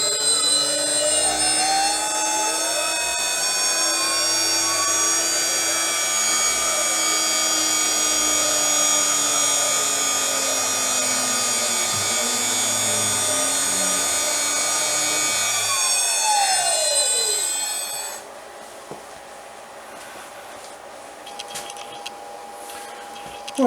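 CNC router spindle running up to 6,000 RPM, a loud steady high-pitched whine with shifting tones for about eighteen seconds before it winds down and stops, leaving near silence with a few faint clicks.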